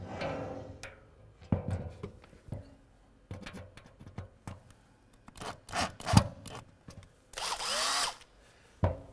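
Hand screwdriver driving a screw into a metal server rack frame: a few short scraping, grinding bursts and clicks separated by pauses, close and fairly quiet, with some handling knocks.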